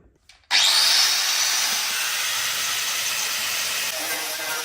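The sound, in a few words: sander sanding metal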